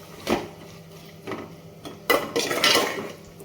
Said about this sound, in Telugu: టమాటా వేసిన తర్వాత ఒకసారి ఇదంతా బాగా కలుపుకోవాలి.